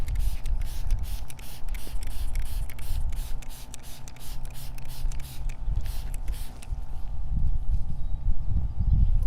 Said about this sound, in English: And it's a pump spray.